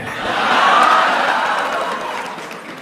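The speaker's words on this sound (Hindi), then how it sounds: "तालियां तो अब बजने वाली है।" An audience breaks into loud applause and cheering at a public address, a dense, swelling roar that peaks early and then slowly eases off, with no voice over it.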